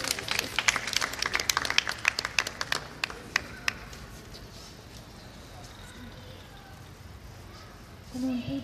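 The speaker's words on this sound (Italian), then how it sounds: "applaudiamo" Audience applause at a poetry marathon reading, a burst of clapping in the first few seconds that quickly thins to scattered claps and fades into quiet room tone.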